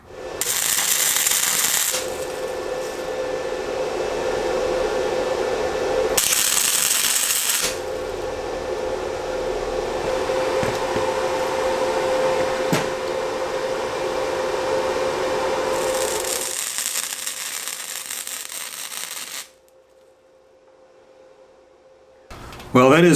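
A beginner's first welding attempt on metal gives a long, steady crackling hiss that runs for most of the stretch, stopping briefly twice before falling quiet near the end.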